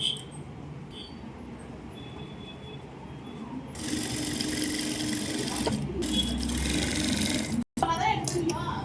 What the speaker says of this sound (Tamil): இப்போ வந்து நம்ம நல்ல பக்கத்தில் வச்சு அடிச்சுட்டு இருக்கிறோம் 1/2 இன்ச்சில்.